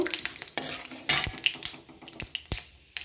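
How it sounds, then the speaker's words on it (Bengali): Bay leaves and five-spice seeds frying in hot oil in a pan, with soft sizzling broken by sharp clinks and scrapes of a spoon stirring, close and fairly quiet. "তেলের মধ্যে আমি দিয়ে দিচ্ছি দুটো পাঁচ তেজপাতা আর দিয়ে দেবো পাঁচ ফোড়ন ফোড়নটাকে ভালো করে ভেজে নেব"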